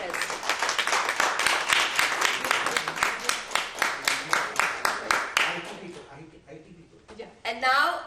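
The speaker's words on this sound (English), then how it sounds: "let's have a huge, huge round of applause, ladies and gentlemen, for all our staff at MAFS." Applause for staff at a fundraiser: a steady wash of clapping for about five seconds that thins out and stops, followed by a brief moment of voices.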